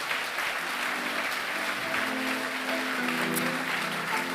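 A crowd at a business awards ceremony in Cantal applauds steadily, sustained dense clapping with faint background tones and no speech over it.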